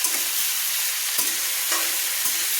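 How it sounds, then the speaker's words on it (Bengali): Vegetables, cabbage among them, stir-frying on a medium flame for Indian street-style veg chowmein, with a steady hiss broken by a few sharp spatula knocks against the pan and no voices. "দিয়ে ভালো করে আমি মাঝারি ফ্লেমে আমি কিন্তু সবজিগুলো ভেজে নিচ্ছি।"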